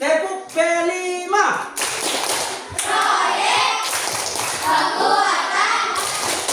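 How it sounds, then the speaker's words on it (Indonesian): An elementary school class does the P5 clapping pattern: children's voices chant briefly, then a burst of rhythmic group clapping follows, busy and close, mixed with chatter. "Bisa dengan tepuk P5."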